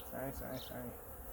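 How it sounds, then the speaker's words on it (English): A steady buzzing of bees close by, continuous and fairly loud, with a faint voice briefly underneath; many bees are drowning in a feeder. "I've got a lot of bees that are drowning in these."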